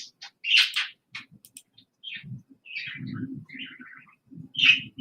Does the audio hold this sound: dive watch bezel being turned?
no